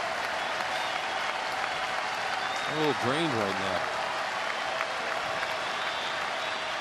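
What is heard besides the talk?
baseball stadium crowd applauding and cheering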